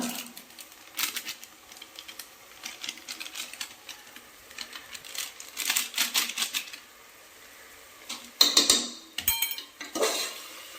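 Vegetable biryani masala being stirred in a metal pot for basmati rice biryani, with repeated scraping and clinking of a spoon against the pot in uneven bursts, louder near the end, and no talking.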